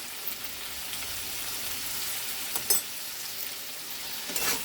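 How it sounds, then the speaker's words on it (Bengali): Chopped potato, eggplant and radish fry together in oil with salt and turmeric, giving a continuous close sizzle with a couple of brief stirring clinks, no voices. "ভালো করে সবজিটা ভাজা হবে।"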